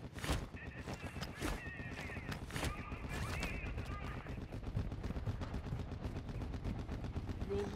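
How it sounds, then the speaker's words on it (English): Gunfire in Call of Duty DMZ during a firefight after a squad mate goes down, with sharp individual shots at first, then a continuous rattle of rapid fire. "You are taking effective fire."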